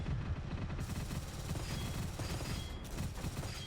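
Rapid bursts of gunfire from the Gunfire Reborn video game, a dense, relentless rattle of shots that continues throughout at close range, with no voices over it.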